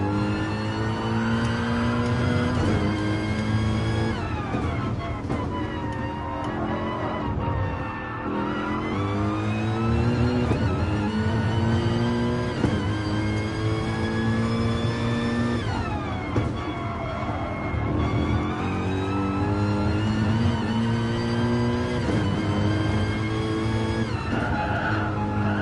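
An onboard Gr3 race car engine in a sim race at the Catalunya circuit screams loudly and continuously, its pitch repeatedly climbing through the gears and dropping under braking, with no voices.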